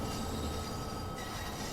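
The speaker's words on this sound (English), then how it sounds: "Sounds like there's another train behind us." A London Underground Bakerloo line train in a train simulator game rolls along behind with a steady low roar and a faint high squeal, moderately quiet and continuous.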